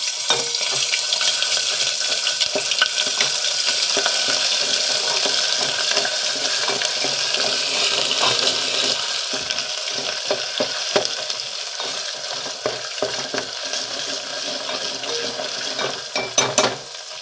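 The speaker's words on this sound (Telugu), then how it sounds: "మనకు అలా రాకుండా ఉండాలంటే ముందు అల్లం వెల్లుల్లి పేస్ట్ వేపుకోవాలి" Ginger garlic paste fries in a pan for a curry, giving a continuous close sizzle with scattered stirring clinks toward the end, and no voices.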